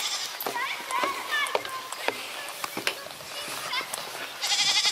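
Goats bleat on a farm with several calls, some close and some farther off, while a person talks to the animals over a faint background.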